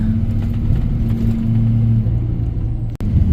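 A GM diesel truck engine rumbling and revving as the truck drives off, a loud, steady low drone close by with a brief dip near the end.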